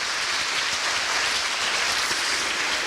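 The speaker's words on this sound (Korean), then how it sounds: "다시 한번 두 분께 큰 박수 부탁드리겠습니다" Steady, dense applause from an audience at a year-end foundation event in Korea, a continuous rain-like patter of many hands clapping throughout with no voices over it.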